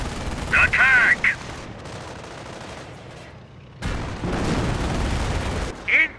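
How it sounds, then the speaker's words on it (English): Company of Heroes gunfire rattles in a steady, noisy barrage during a city siege, with brief bursts of a voice speaking near the start and again at the end. "Incoming gunfire!"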